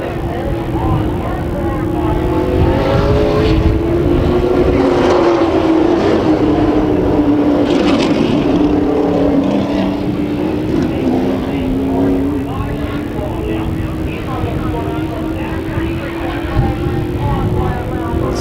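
Race car engine droning continuously as it spins its tires climbing a hill at a season-opening Toyota SWS race, the pitch wavering up and down, loud and sustained throughout.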